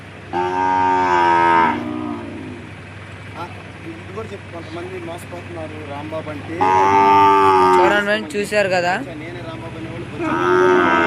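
A young calf gives loud, drawn-out moos in a village farmyard, three calls spaced several seconds apart, with people talking in between.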